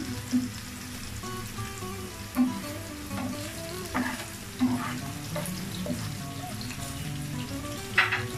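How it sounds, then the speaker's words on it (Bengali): Chopped onions fry in a pan for egg noodles, giving a steady, close sizzle that runs throughout, broken by a few sharp stirring clanks from a utensil against the pan, with no talking. "কিছুক্ষণ ভেজে নিচ্ছি। আমার পেঁয়াজগুলো ভাজা হয়ে গেছে"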